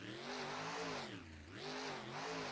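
The Thunder Horse monster truck's engine drones loudly and steadily, dipping in pitch before revving back up, with a harsh roar that fills the stadium and no voices on top.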